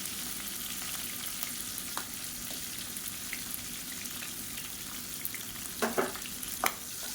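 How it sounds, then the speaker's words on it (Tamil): Shallots and crushed green chillies sauté in hot oil, a steady close sizzle and crackle throughout, punctuated near the end by a couple of sharp spatula scrapes against the pan. "சேர்த்துட்டு நல்லா வதக்கி விட்டுக்கலாம்"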